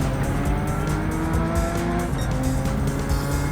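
Porsche 992 Turbo S racing in Gran Turismo 7, a dense, continuous engine roar with tire squeal and skidding under braking, loud and sustained without talking.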